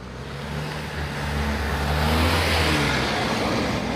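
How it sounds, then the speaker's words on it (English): A car approaches and passes close by on a road near a common, its engine and tyre roar swelling to a loud peak midway, then fading slightly as it moves on. "There's a car coming, quick."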